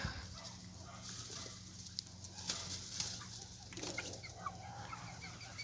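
A young cockerel clucks faintly in an outdoor run, a few scattered short calls over quiet background noise with no talk.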